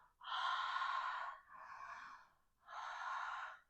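A single voice imitates the Ujjayi yoga breath with three long breathy, hissing exhalations through a constricted throat, the first and last strongest and the middle one softer, close and with no talking.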